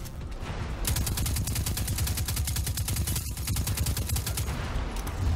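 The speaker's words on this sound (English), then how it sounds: "And grenade launcher!" Rapid repeated gunfire in the video game Destiny 2, a fast steady burst of close, loud reports with a brief pause partway through, from a heavy weapon such as a grenade launcher.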